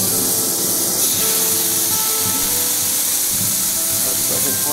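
A pompano fillet sizzles in a hot pan, a loud, steady spray-like hiss of frying oil running throughout with faint clatter underneath, no voices.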